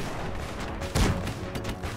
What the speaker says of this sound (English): They're not taking any return fire, so they're just gonna strafe everything.